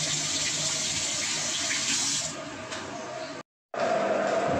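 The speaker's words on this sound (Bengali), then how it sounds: "মাছগুলো এখন সব ধোব।" Tap water pours steadily into a sink while pabda fish and shrimp are washed, a dense rushing flow that softens, cuts off briefly, then resumes strongly.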